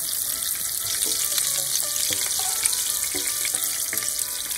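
Sea robin fish frying in a pan, a continuous close sizzle with faint crackles and occasional stirring clicks, steady and fairly loud, no talk.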